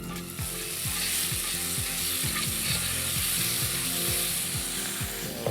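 Red peppers and edamame sizzle steadily in a hot pan, with a run of rhythmic scraping clicks as the ingredients are tossed and stirred, loud and close throughout with no talking.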